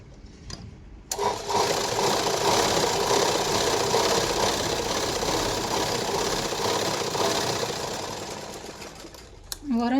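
A sewing machine top-stitching the lining of a blouse runs in a steady, close, continuous whir for about eight seconds, slowing and stopping near the end, with a brief click before it starts.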